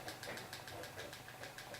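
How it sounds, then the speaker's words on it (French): A motorcycle engine in GTA 5 idles with a steady, slightly knocking mid-pitched rumble, faint and continuous. "votre pote, il est content, il s'amuse avec la moto."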